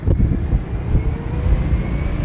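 A modified Chinese electric motorbike with side drive, dynamo and gearing pulls away under throttle, giving a steady close rumbling drive noise with a faint rising whine running through it.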